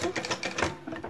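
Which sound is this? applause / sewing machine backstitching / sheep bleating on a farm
sewing machine backstitching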